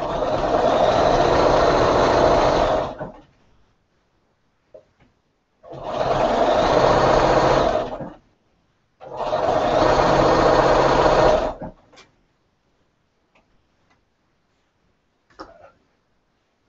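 A sewing machine stitches quilt pieces back together in three loud, steady bursts of fast mechanical whirring, each lasting a few seconds and separated by short pauses with faint clicks.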